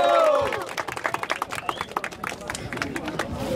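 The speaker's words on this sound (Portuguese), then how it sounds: "Palmas pra batalha." A crowd claps at an outdoor rap battle, with scattered, uneven hand claps and a cheer or shout at the start, plus voices in the background.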